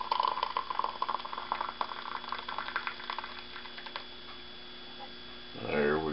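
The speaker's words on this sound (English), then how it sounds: "let's pour some coffee here" Freshly perked coffee is poured from a percolator into a cup at home, a faint bubbling liquid trickle over a low electrical hum, ending with a short gurgle as the pour finishes.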